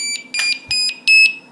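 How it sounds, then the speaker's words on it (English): A Metroboard Mini RC remote gives high electronic beeps while changing skill level, about four short groups of sharp tones in quick succession, loud and close. "as you heard based on the beeps"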